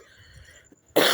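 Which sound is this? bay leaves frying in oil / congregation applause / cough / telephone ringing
cough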